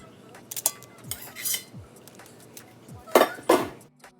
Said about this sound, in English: go ahead and add them to your lined baking dish.